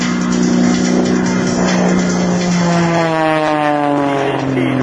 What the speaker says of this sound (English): She can't fly this airplane straight and level.